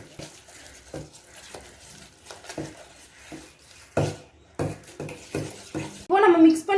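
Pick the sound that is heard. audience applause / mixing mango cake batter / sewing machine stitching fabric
mixing mango cake batter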